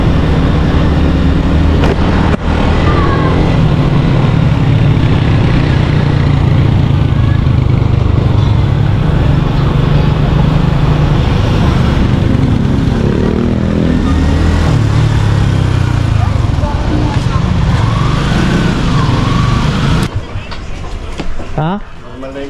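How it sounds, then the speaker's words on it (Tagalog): Loud, steady engine drone from a motor vehicle runs without a break for about twenty seconds, then cuts away near the end. Voices talk over it. "Tahimik naman yung makina."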